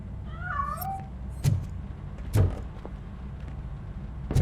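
In the video game Robocop: Rogue City, a cat lets out a close, clear meow and then escapes, followed by several dull thumps and knocks against low background hum.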